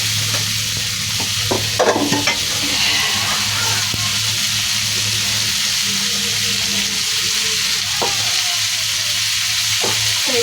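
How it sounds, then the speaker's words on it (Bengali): Cauliflower stir-frying in a pan for a fish and potato curry sizzles steadily, with occasional stirring scrapes and clatters on top of a constant frying hiss. "এই আমি ফুলকপি দিয়ে দিলাম, ফুলকপিটা কষিয়ে ফুটবে"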